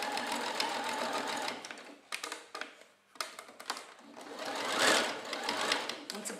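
A sewing machine stitches a blouse in the Oran or Tlemcen style, running in rapid whirring bursts with short pauses and a brief near-silence midway, and a voice talks faintly in the background.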